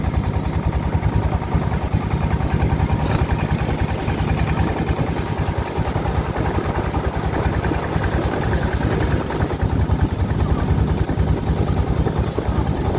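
Motor boat crossing the Meghna river near Ashuganj and Bhairab, its engine droning steadily and loudly with a constant low throb and rhythmic chug, mixed with water and wind noise, no talk.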